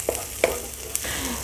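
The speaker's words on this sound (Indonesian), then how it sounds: "Ditumis-tumis lagi sampai merata dan sampai mengeluarkan aroma yang harum ya" Spice paste for soto ayam being stir-fried in a pan, a soft continuous sizzle broken by a few sharp scrapes and clinks of a utensil stirring, close and without talk.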